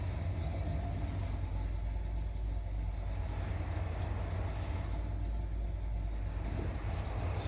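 A 1979 Corvette engine idles steadily at about 1,000 RPM, a continuous low rumble with a constant level throughout and no voices.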